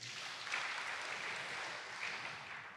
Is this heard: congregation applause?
yes